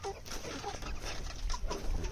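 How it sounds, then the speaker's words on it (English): Chickens clucking in a modified ChickShaw mobile coop as they are let out, a steady jumble of close clucks and calls over low farmyard rumble for about two seconds. "Time for the chickens to get out."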